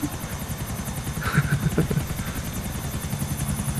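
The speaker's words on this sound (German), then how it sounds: "Ich versuche gerade meinen, meinen Hubschrauber aufzukriegen." Steady rapid thumping of helicopter rotor blades with engine whine, continuous and fairly loud throughout, from the video game GTA IV, with no voices.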